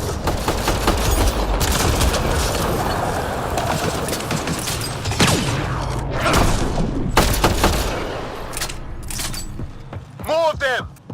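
Ongoing firefight in Mass Effect: Andromeda, steady crackling gunfire and occasional heavier booms under frequent voices and combat chatter, loud throughout.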